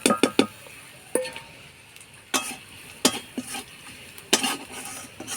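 Ground coriander, cumin, chili and turmeric being stirred in a frying pan with a spoon, quiet sizzling broken by sharp metallic scrapes and clinks at irregular intervals, close and without talk.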